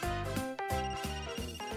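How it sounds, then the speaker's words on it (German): A telephone rings in the video game Another Code: Recollection, a steady electronic ringtone of repeated bright tones in a regular pattern, loud and alone. "Phone's ringing."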